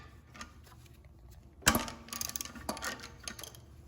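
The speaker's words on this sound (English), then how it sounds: "next we're going to remove this bolt that secures the oil supply line, and it takes a 17mm socket" A 17mm socket wrench ratchets against the oil supply line bolt on a Fiat 500 Abarth, quiet close clicking after a sharp metallic clack, with a few brief bursts of tool rattling.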